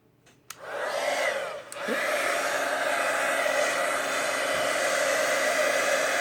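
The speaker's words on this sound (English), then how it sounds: "we're going to bring in our heat tool" A heat tool switches on and blows steadily over a greeting card while embossing powder is heated, a loud, constant whooshing hiss after a brief click, running alone without talk.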